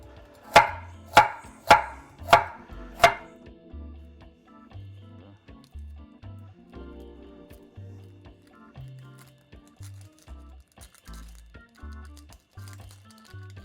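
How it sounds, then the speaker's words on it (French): A knife roughly chops a carrot on a cutting board, giving five sharp, evenly spaced thuds up close, followed by quieter scattered knocks and shuffling. "on va la couper grossièrement, la carotte"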